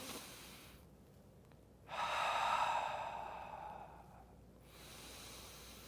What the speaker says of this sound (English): That's 2 deep breaths.